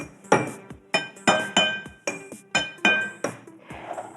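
Metal spoons struck against dishes ring out in bright clinks, about eight sharp strikes in an uneven rhythm, close and fairly loud with ringing decays, played the way a child might drum at the table.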